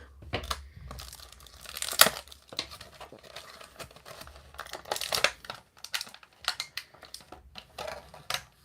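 Plastic toy packaging for a Skeletor action figure crinkles and rustles up close while scissors snip through it in irregular bursts, with scattered sharp crackles and tearing.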